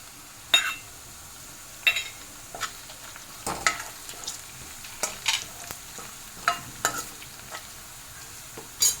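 Green chilies and curry leaves tossed into hot oil over browned onion for a yogurt tadka, crackling and sizzling with repeated sharp spoon-stirring taps against the pan, close and fairly quiet.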